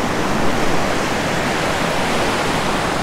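Illilouette Creek flowing past a campsite in Yosemite, heard up close as a loud, steady broadband rush of water with no break and no voices.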